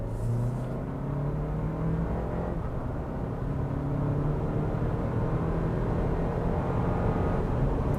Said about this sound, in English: Thankfully the engine is quiet when you're really revving it out, but it just doesn't sound that great.